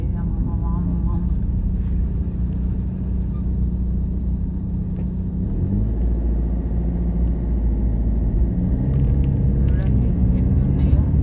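Heavy sand lorries on a road by the Godavari river: a continuous loud low rumble of engines and tyres, steady throughout, with faint talk mixed in.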